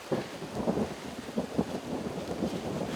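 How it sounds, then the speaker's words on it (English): Thunder rumbles across open Wyoming country during an elk hunt, a low continuous roll with swelling surges that sounds moderately distant, heard alone with no talking. "and the thunder rolls"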